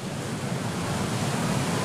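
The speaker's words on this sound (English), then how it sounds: "kind of amazing to see those huge waves" Large ocean surf at Newport Beach, Southern California: a continuous, loud roar of crashing waves and rushing water, steady throughout with wind noise and no voices.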